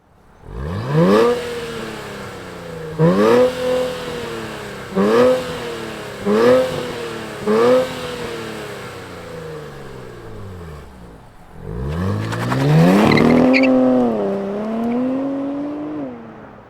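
A 2024 Nissan Z NISMO engine cranks and catches, then revs sharply in five quick blips followed by a longer, louder rev and settles back down, close by.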